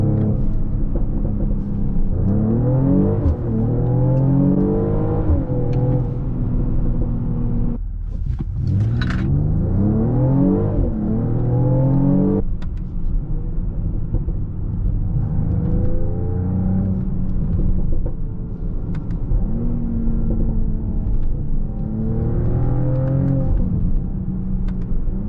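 Mercedes-AMG GLE 53 Coupé engine and exhaust droning steadily inside the car, with rising and falling rev sweeps and a brief sharp burst of crackle near the middle.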